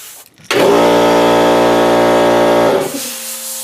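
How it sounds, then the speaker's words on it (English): An airbrush fed by a 33-gallon air compressor sprays a loud, steady hissing burst lasting about two seconds, close up, starting and stopping abruptly, while painting a crappie fishing lure. "I use a 33-gallon air compressor"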